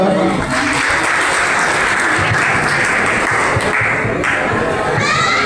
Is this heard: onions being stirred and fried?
no